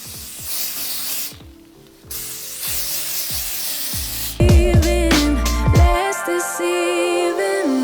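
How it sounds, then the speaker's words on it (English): Wig adhesive spray hissing in a long, close, steady burst from the can, briefly pausing, then more spraying under loud background music. "The spray is going everywhere."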